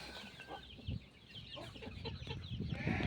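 A hen clucking close by among other farm birds, soft low clucks with a few sharper calls amid background rustling.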